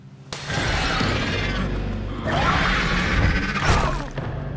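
Glass shattering in a horror video game: a sudden loud crash bursts in, then a sustained clattering, scraping rush of debris, with a second smash swelling near the end, heard close and without talk.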